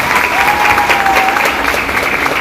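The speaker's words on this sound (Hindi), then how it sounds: "मैं चाहूंगा एक जोरदार ताली आप लोग खुद के लिए" Loud audience applause at the Jashn-e-Bihar celebration show in Sasaram, a dense burst of clapping from a crowd heard close and continuous for a couple of seconds.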